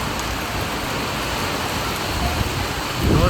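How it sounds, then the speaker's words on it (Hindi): Heavy torrential rain pours down in a dense, loud, steady hiss with no talk, swelling slightly near the end, while travelling near Mukteshwar. "वैसे ही बहुत तेज़ बारिश यहाँ शुरू हो गई है।"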